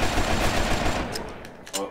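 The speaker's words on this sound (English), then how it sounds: "I use my AK-47 wounder." Rapid automatic AK-47 fire in a Roblox zombie shooter, a loud, dense burst of shots that rattles on for over a second, then a couple of sharper isolated cracks near the end.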